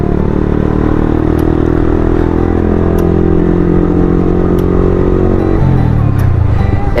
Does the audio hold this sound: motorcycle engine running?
yes